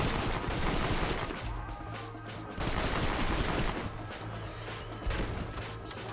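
Rapid shotgun blasts fired at zombies in the Red Dead Redemption undead mode, loud and close, in dense overlapping bursts with crashing impacts that continue throughout.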